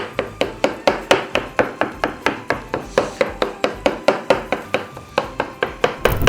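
Knife chopping ingredients on a board for Hama-style batersh, a Ramadan dish: a steady run of about twenty crisp, evenly spaced chops, close and fairly loud, with no talking.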